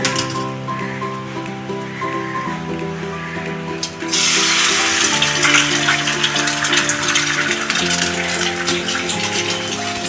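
An egg fries in hot oil in a wok, with a steady background hiss that bursts into louder, denser crackling spitting about halfway through as it hits the oil, close and continuous.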